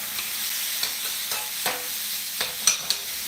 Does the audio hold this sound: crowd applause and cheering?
no